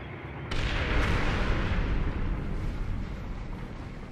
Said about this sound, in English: The North Korean tanks barrel through the American barrage.